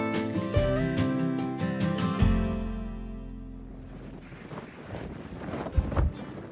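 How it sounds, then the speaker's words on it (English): Gusting gale-force wind buffets the microphone in low rumbling blasts on a hilltop near Vivonne Bay, Kangaroo Island, with rattling and flapping noises early on that give way to a rougher, broadband roar. "Having a gale."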